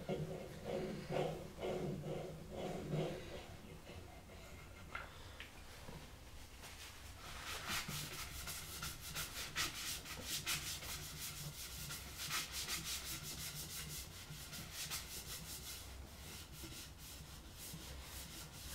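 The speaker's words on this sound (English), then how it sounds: "And a second coat of sanding sealer now." Repeated rubbing strokes applying sanding sealer to a wooden banjo hoop, a dry scratchy brushing that goes on steadily, with a voice briefly speaking near the start.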